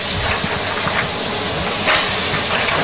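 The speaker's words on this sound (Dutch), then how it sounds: "Zoals je kunt zien is de wok vrij heet. Nou, daar gaan we mosselen in doen." Mussels hit a hot wok for Moroccan-style cooking and sizzle with a steady, dense hiss throughout, close and fairly loud, with no voices.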